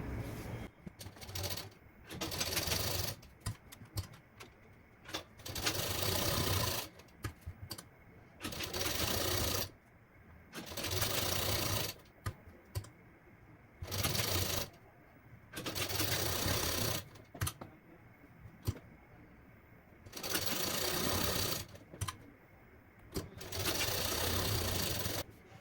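A sewing machine stitches blouse fabric in repeated loud bursts of a few seconds each, separated by short pauses, close up and steady, with no talk over the stitching.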